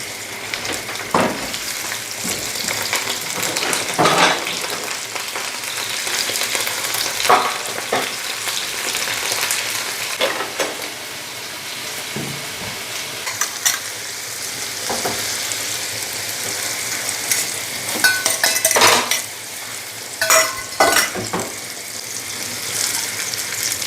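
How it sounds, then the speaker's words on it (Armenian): Broccoli frying in a pan with egg poured over it gives a loud, continuous sizzle, broken by scraping and stirring clatter throughout. "Սենց տապակեմ, ձուն լցնեմ"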